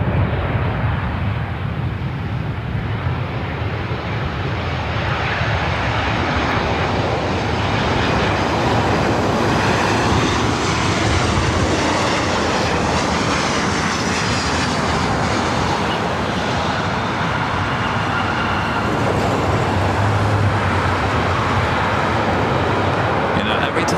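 An Alaska Airlines jet comes in to land on runway 24 right at LAX, a steady broadband engine roar that holds for the whole stretch, loud and continuous with no break.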